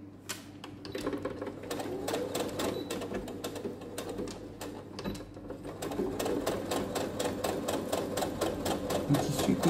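A sewing machine backstitches to finish a seam on a thin cotton fabric pouch, its rapid, even mechanical ticking running steadily near the microphone throughout at moderate volume.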